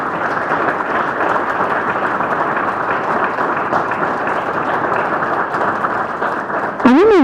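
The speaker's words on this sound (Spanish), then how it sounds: "Fuerte el aplauso" A crowd applauds continuously at a Spanish-language book presentation, steady dense clapping held for several seconds before a voice breaks in at the end.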